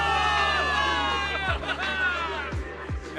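Crowd of soldiers cheering a victory in the game Zenless Zone Zero, a dense roar of many voices carrying on throughout, with a few sharp whoops or shouts standing out near the end.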